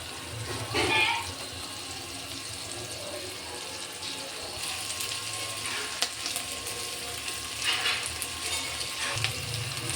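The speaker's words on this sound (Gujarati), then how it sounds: "ડુંગળી સતળાઈ ગઈ છે એટલે તેમાં લીલું લસણ નાખી દઈશું" Green garlic added to sautéed onions frying in a pan for pava batata, a steady soft sizzle with a few stirring scrapes and brief splashy bursts, fairly quiet throughout.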